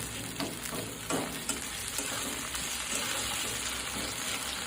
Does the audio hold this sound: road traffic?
no